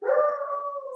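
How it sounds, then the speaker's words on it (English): A dog howls in the background in a single sustained, wavering tone that starts strong and slowly fades over about a second, with no talk over it. "apologize for my dog in the background"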